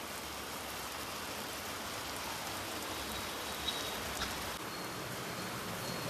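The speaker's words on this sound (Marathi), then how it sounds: "मस्त धो धो पाऊस पडतोय आणि रस्ते भरतायत" Heavy, continuous July monsoon rain pours in Kamothe, a steady dense hiss of rainfall that fills the streets with water, unbroken throughout and with no talking.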